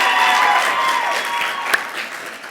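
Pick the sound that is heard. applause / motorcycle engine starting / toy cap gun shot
applause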